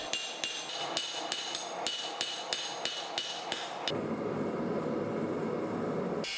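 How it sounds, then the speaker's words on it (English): A hammer strikes a hot Damascus steel ring workpiece to flatten it, about a dozen sharp ringing blows at a steady rhythm, close and clear, then giving way to a steady roaring hiss. "Now that it's drifted, I'm just flattening the workpiece."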